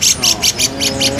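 A Javan bearded bulbul (cucak jenggot) sings in a run of about seven bright, repeated chirping phrases at an even rhythm, close and fairly loud, over a low background hum and a faint voice.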